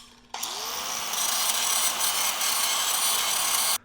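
Power tool cutting metal parts for a belt drive conversion on a Burromax minibike, one steady high whining cut lasting a few seconds, loud and close with no talking.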